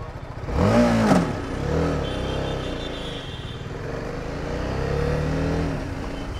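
Engine of a BMW G310 motorcycle being ridden just after refuelling: a steady close engine drone with rising and falling revs as the rider accelerates and shifts, plus rushing wind, no speech.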